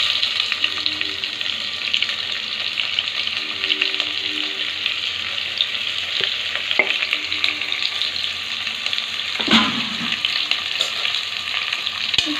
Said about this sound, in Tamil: சின்ன வெங்காயத்தை தாளிக்கிறோம்.